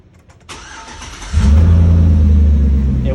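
A warmed-up Chevrolet 5.3L Vortec V8 cranks briefly, then catches and settles into a loud, deep, steady running roar, close by with no talk.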